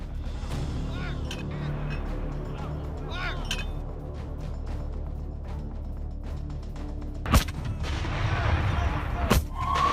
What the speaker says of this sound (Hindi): हमास का आईडीएफ को मोर्टार से हमला। इजरायली बेस पर बरसाए गोले।